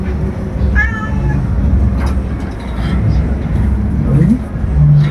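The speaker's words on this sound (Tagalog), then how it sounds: "Dahil pusa, oh." A cat meows a few times at close range, short rising cries standing out over a steady rumble of background noise, with people talking nearby during a Christmas Day gathering.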